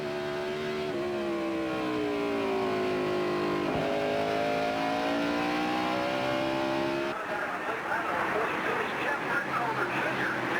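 A race car at the 2001 Global Crossing at the Glen roars past at about 157 mph into a left-hander, loud and close, its engine pitch climbing and shifting through the gears before a rougher, broadband burst of noise near the end.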